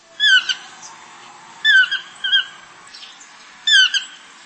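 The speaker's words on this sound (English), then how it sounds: "Toucan." A toucan gives three clear, separated bursts of croaking, rattling calls, fairly close, with faint softer notes between them over a quiet background.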